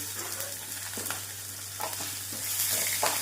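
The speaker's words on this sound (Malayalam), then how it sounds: "അപ്പോഴിട്ട് ഇതിനെ ഒന്ന് വഴറ്റി അരപ്പരുവം വേവാവണം" Onion, carrot and green chili sautéing in a pan for upma, giving a soft continuous sizzle with a few light spatula scrapes and taps, close and quiet, no voices.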